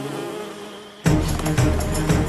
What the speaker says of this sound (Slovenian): Bliskovite čebele!